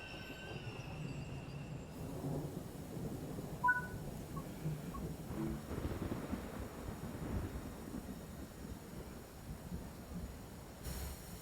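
A high-speed electric train in Train Sim World 4 arrives at Faversham station with a steady rolling rumble, clattering wheels and a brief squeal of brakes, fairly faint and continuous, with no talking over it.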